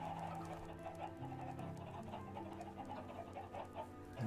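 Chickens clucking on a chicken farm in the video game Minecraft, soft repeated clucks in an uneven rhythm, faint and steady.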